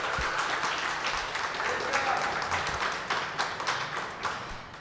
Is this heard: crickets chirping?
no